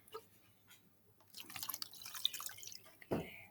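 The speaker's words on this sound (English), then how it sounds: "let's get some more water in my pan" Water pours into a pan for a tabletop ocean surface-current model, a splashing trickle that swells for a couple of seconds before a final sloshing burst, close and fairly quiet, with no talking.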